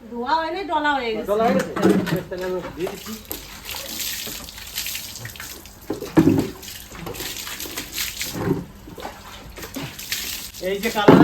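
Tap water runs and splashes steadily as newly bought items are washed, with clattering handling of objects and a person talking throughout.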